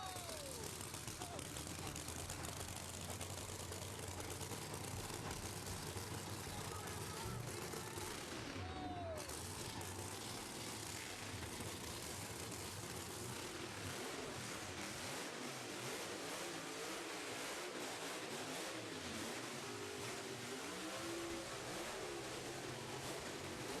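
Top fuel drag racing cars at the Australian Top Fuel Championship, a continuous thunderous wall of engine roar and revving that stays loud and dense throughout, with crowd or announcer noise blended underneath.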